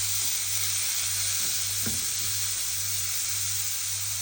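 Squash sizzles on a grill with a steady, dense hiss and a few soft knocks or scrapes partway through, loud and close with no talking.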